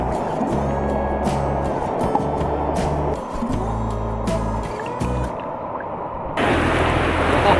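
Water of the Nambalan River in Mayantoc, Tarlac rushes steadily in a continuous broadband wash, with low rumbling tones underneath and a brighter, louder surge in the final second.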